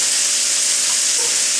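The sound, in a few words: stirring chicken in Old Bay seasoning while frying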